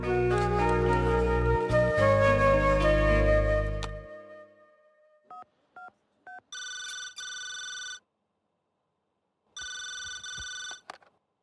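Music fades out, then an electronic telephone ring sounds in repeated bursts, separated by a short silence.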